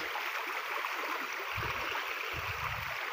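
A strong river current rushes in a steady loud wash of churning water close by, with a few low thumps and gurgles partway through.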